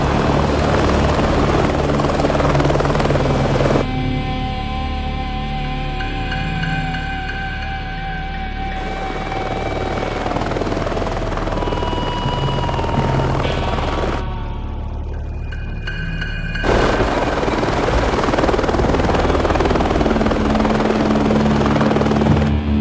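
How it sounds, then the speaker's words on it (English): A helicopter's steady rotor drone and engine whine fill the scene loudly and continuously, shifting in tone as it passes, with no voices. "Big Deal's got his own helicopter service instead of coming in here on the bus"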